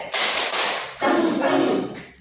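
A group claps the rhythmic 'tepuk toge' chant at a school gathering, with a few broad bursts of clapping close by and some voices mixed in.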